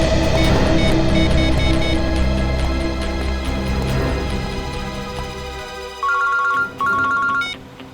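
A loud electronic phone ringtone plays a repeating melodic pattern over a busy backdrop, then breaks into short, bright repeated beeping tones near the end.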